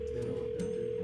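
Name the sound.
phone call ringing unanswered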